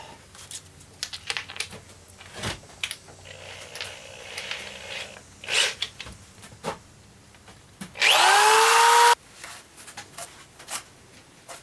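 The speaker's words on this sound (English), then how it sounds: "For this one, I'm going to do it right on the sander, on the drill." A power drill whirs loudly for about a second as it spins up, sanding a wood turning, surrounded by quieter knocks, scrapes and handling noises.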